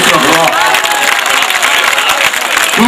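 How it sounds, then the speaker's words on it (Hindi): A large mushaira crowd in an open pandal applauding for a poet, loud and continuous clapping mixed with crowd noise and cheering, with some voices heard in the wash. "एक बार पूरा पंडाल मुझे बताए जोरदार ताली बजा करके कि मैं फिर से पढ़ूंगा"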